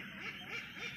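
Muscovy (Barbary) ducks, a former breeding hen among them, quacking in soft, repeated calls while waiting for feed, a steady low chorus with no talk.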